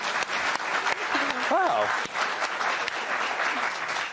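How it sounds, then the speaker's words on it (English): A TV news show's studio audience applauds. The clapping is steady and full, a voice briefly speaks over it, and it fades toward the end. "because you applauded her"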